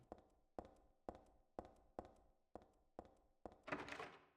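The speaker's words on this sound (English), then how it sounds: "the broken lock sound is really good. They're like jiggling the doorknob." A broken door lock in Silent Hill 3 rattles as a doorknob is jiggled, giving eight sharp, evenly spaced metallic thunks about half a second apart, the last one longer and noisier. The sounds are close and clear, with no talk over them.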